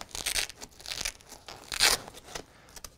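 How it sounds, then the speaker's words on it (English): Velcro strip torn away from the back of a K3 hipbelt pouch, giving several short rasping rips in quick succession, close and fairly loud, with no talking. "Simply kind of peel the Velcro off back here."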